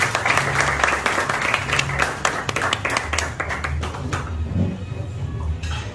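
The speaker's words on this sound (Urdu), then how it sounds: "آپ کی بھرپور تالیوں میں فرحانہ غزالی صاحبہ." An audience at a book launch and award ceremony in a London venue bursts into dense clapping to welcome a woman guest, then the applause thins out and fades in the final seconds.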